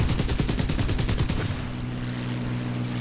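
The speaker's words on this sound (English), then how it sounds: "he's firing at us" Aircraft machine guns in War Thunder chatter in a rapid, loud burst of shots for over a second before the fire stops, leaving a steady engine drone.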